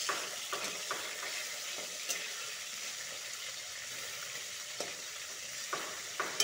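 Katla fish pieces frying in hot oil, a soft, continuous sizzle with occasional faint scrapes and pops as the pieces are turned, fairly quiet throughout.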